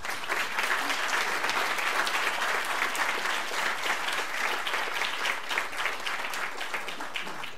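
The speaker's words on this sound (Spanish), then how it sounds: "Un aplauso para el profesor" Audience at a university faculty debate between dean candidates in philosophy and humanities gives a professor a steady, even round of applause, a continuous dense clapping from many hands with no talk over it.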